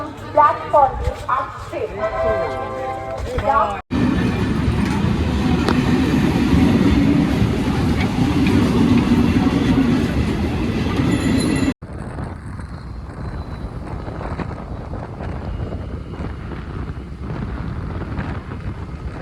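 At Barrackpore railway station, trains produce a loud, steady rumble and rattle that fills the middle of the clip between abrupt cuts, with voices talking at the start and a quieter, windy stretch of platform noise at the end.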